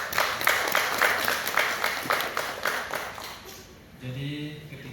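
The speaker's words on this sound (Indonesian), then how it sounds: "Tepuk tangan untuk kita semua." Audience applause at a seminar on disability-friendly tourism in Makassar, a moderately distant crowd clapping for about four seconds before fading, then a voice begins talking.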